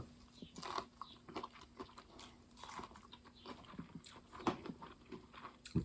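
Corn on the cob with butter and salt is bitten and chewed close up, a series of quiet, irregular crunchy bites and wet chewing sounds.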